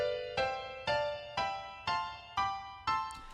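Seven minor chords with a darker color are struck in an even rhythm, each decaying quickly before the next attack, heard clearly with no voices.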